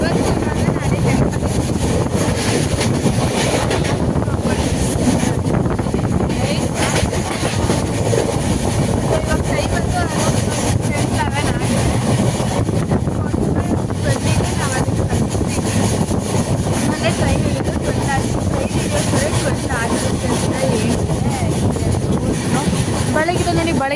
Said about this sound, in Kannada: ಇಲ್ಲಿ ಟ್ರೈನ್ ಜರ್ನಿ ಸ್ಟಾಪ್ ಆಗುತ್ತೆ